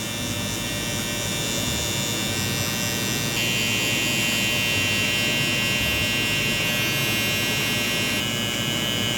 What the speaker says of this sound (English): We're gonna take my soft trimmer, which is a trimmer that's not gap, and I'm just gonna baby tap this line right here.